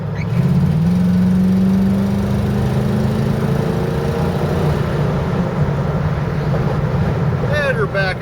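A 1980 Oldsmobile Cutlass 442 V8 with a four-barrel carburetor accelerates, a loud steady engine roar with a climbing tone early on and wind noise throughout.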